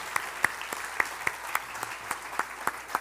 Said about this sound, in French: je pense qu'on peut applaudir Brice encore une fois